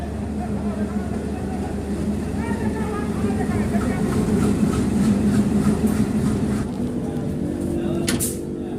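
Dibrugarh-Chandigarh Express pulling out of a station near Guwahati, a steady low rumble and rattle of the moving train heard from on board, with muffled voices nearby and a brief clatter near the end.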